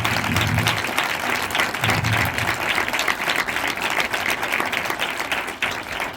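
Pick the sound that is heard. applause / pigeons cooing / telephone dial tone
applause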